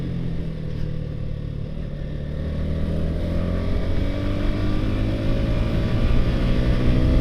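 A Yamaha R15 V3 motorcycle with a Ronin Hanzo NextGen exhaust in silent mode idles with a low, steady exhaust rumble that rises slowly in pitch and volume, fairly near and unaccompanied.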